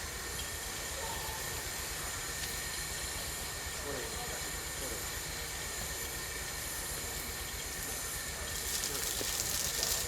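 A brand-new Indian-built diesel locomotive, under six months old, on a Burma railway gives a steady, loud rumble and hiss that runs unbroken throughout and swells slightly near the end.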